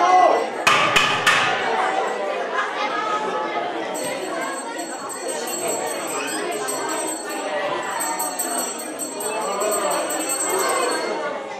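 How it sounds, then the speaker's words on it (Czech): Banging and clanging of devils bursting into a hall on St. Nicholas Eve in a cultural house: sharp metallic strikes up front, then ringing bells and a clatter under a noisy crowd of chattering voices. "bylo slyšet jen bouchání a řinčení a v zápětí do sálu vtrhli čerti"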